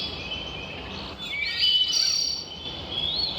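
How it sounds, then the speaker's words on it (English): Birds in a Bavarian werewolf video game set in Munich chirp and trill in clear, fairly loud bright calls, several overlapping song phrases over a quiet ambient background, with no talking. "The birds over here are much louder."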